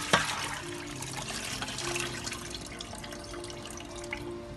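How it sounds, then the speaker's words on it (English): Tap water runs steadily over raw chicken wings being washed in a sink, a continuous close splashing flow with some dripping and no talk. "Wash the chicken wing well."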